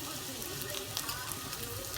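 French toast slices fry in a pan of oil, giving a soft continuous sizzle and crackle at low volume with no other sounds on top.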